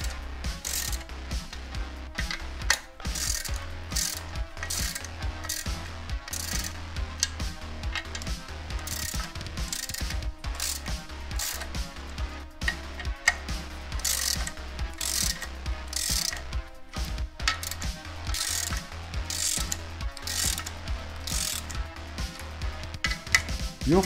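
Ratchet tightening clutch pressure plate bolts onto a flywheel during a VR6 turbo clutch install, fast steady clicking strokes close up, repeated in long runs with brief pauses, a low hum underneath.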